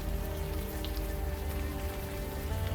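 Rain in the Old Skies video game, a steady dense hiss of droplets falling on surfaces, close and continuous with no talk.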